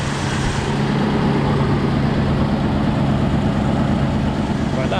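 A repaired car engine idles smoothly and steadily at close range, a constant low rumble that holds for the whole stretch with no misfire or break.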